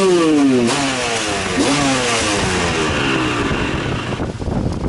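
Yamaha YZ250 two-stroke dirt bike with a smart carburetor revving out hard, the pitch sweeping upward in a couple of sharp climbs before settling into a ragged roar, loud and close.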